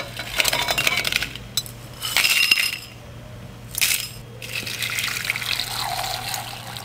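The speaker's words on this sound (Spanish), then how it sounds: "Aquí ya está hirviendo" A pot of water with cinnamon sticks, anise and cloves bubbles and splashes in uneven bursts, loud surges alternating with quieter simmering gaps, close by and without talk.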